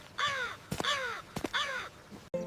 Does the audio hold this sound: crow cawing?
yes